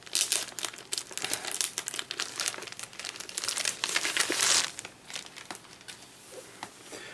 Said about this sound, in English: this bag's a pain. Like, it doesn't tape up well, and the tape doesn't come off well.